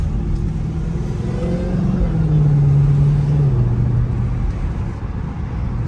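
A supercharged Dodge Hellcat engine drones close by in rush-hour traffic, its loud supercharger whine swelling and fading as it accelerates, over a steady low rumble of road noise.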